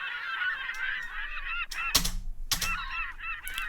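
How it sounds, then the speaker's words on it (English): Seagulls calling in a song, with steady repeated squawking cries layered throughout and a couple of sharp percussive hits cutting through midway. "It's not Britain without the sound of seagulls as well."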